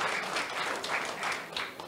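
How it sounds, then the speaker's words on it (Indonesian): Applause from a church congregation during a sermon, a steady wash of many hands clapping together that swells and eases over two seconds, fairly close and filling the room, with no talking over it. "Itu tepuk tangan dulu dong."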